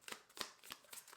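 A tarot card deck is shuffled by hand in a few quick, papery riffling bursts, soft and close, with no voices.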